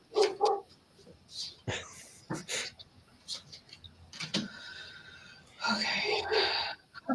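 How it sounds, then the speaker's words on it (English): A dog barks in short repeated bursts indoors, loud and close, alternating with a person talking nearby. "Every time I start to talk, he starts barking."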